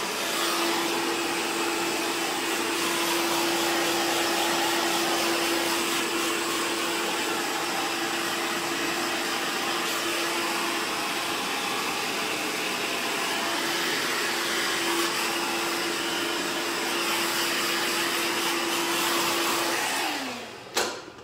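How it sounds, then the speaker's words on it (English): A hair dryer blowing on the bottom of a short layered haircut, a loud steady whirring roar held for about twenty seconds before it cuts off with a brief clunk. "I'm just gonna use the dryer for 2 seconds just to get the bottom."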